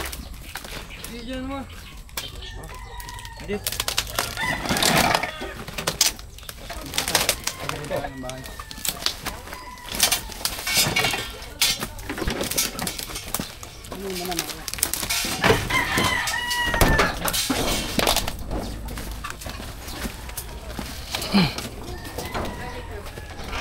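Chickens near a snake's habitat cluck busily while a rooster crows now and then, a dense, continuous farmyard chorus with voices mingling in the background.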